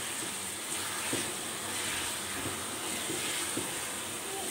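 Boiled potatoes frying with tomatoes in a pan, a steady close sizzle and hiss with faint stirring scrapes, no talk.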